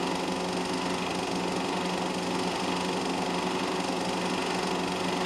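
Racing car engines from an MG, a Saab and a Fiat Abarth Coupe drone in a steady, continuous buzzing whine at middling distance, with no breaks and no talking.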